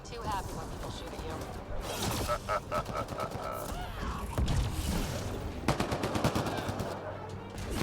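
Gunfire rattles through a Mass Effect: Andromeda firefight in rapid bursts and single shots, mid-distance and fairly loud, with voices talking over the combat.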